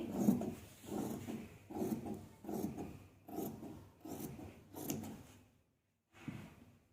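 Scissors cut through cloth with a rhythmic run of about eight rasping snips, paced evenly. A short pause follows before one final cut. The cloth is being trimmed around a collar, leaving a margin.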